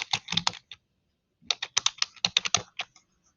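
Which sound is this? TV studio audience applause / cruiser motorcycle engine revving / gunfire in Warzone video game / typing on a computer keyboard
typing on a computer keyboard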